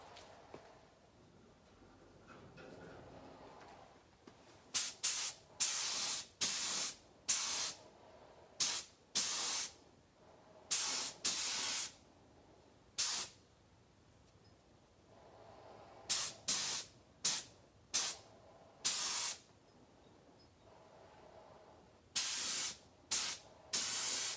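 A spray gun lays a Cerakote coating onto a knife blade in a home garage, firing a series of short, sharp hissing bursts separated by brief quiet gaps.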